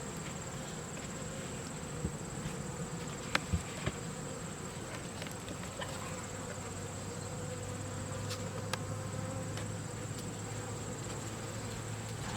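Honeybees drone continuously in an open beehive, a steady close buzz with occasional louder passes of individual bees near the ear and a few faint clicks and taps.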